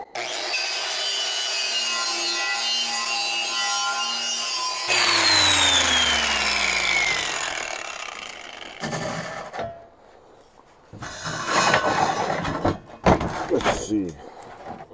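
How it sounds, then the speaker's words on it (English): A power tool's wheel grinds and strips paint from a metal Diacro table. The abrasive whine runs steadily, drops to a lower sweep, then breaks into bursts near the end. "Because now I'm stripping paint off."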